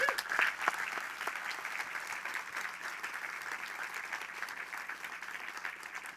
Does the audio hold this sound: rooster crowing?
no